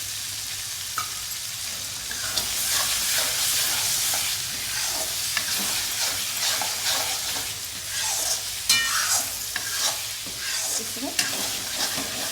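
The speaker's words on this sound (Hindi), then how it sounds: "धीमे आंच में भूनते हैं।" Spices and peas fry in a kadhai on low flame, a steady gentle sizzle with repeated scraping stirs of a spoon, and a voice speaks briefly.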